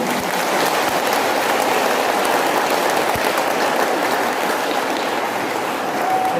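A church congregation applauds the choir and its two conductors at a New Year's night Mass, a steady, rain-like roar of clapping with no talk.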